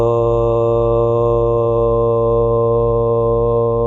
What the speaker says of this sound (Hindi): ओम चैंटिंग करेंगे